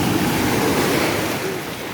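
Small waves wash onto the Black Sea shore in a steady broadband rush of surf, close and fairly loud, with some wind buffeting and no voices.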